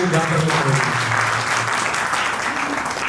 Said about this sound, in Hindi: एक बार जोरदार तालियां जो है